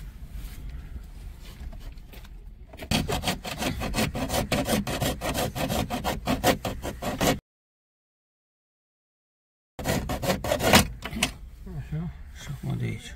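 A hand saw cuts through plastic to free the R-Link unit from a Renault Kadjar dashboard, with rapid, rhythmic rasping strokes, a silent gap, then more sawing.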